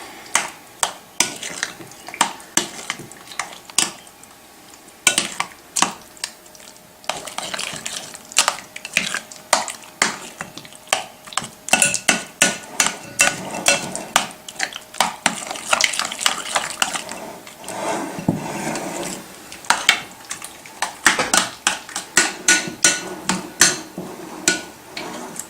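Room-temperature Philadelphia cream cheese and other dip ingredients for a hot crab dip being mixed in a bowl, a long run of loud, close, rapid clacking and scraping of utensil against dish, with no talk.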